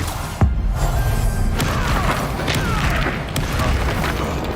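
A fire spell goes off in the Hogwarts Legacy game: a sudden booming burst followed by a steady roaring rush of flame-like noise that holds until the end.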